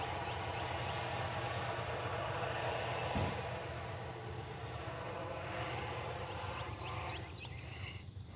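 A Freewing Ares 3D Red 90mm EDF RC jet on 8S power roars steadily overhead while hovering in flight mode 3, a continuous high whine with a brief louder swell midway, heard outdoors without talk.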